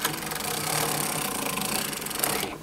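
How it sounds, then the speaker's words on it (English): A hand-cranked sock knitting machine being cranked, a close, rapid, even clatter of needles and cam that runs steadily for a couple of seconds before easing off. "The machine should now be cranking flawlessly again."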